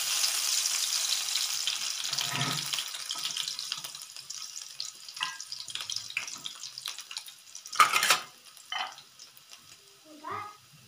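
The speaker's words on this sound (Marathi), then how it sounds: "तेल तापलंय आता आपलं, त्याच्यात घालणार आहोत आपण ठेचलेला लसूण" Crushed garlic hits hot oil in a pan, a bright hissing sizzle that is strongest at first and then settles to softer crackles, broken by a few louder splashes and clatters.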